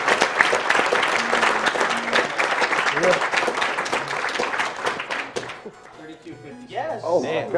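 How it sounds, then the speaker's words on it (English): Audience applauses loudly after a Mega Man 9 speedrun at the AGDQ 2014 charity marathon, dense clapping for about five seconds that then fades, with voices talking and cheering over it. "keep the applause going"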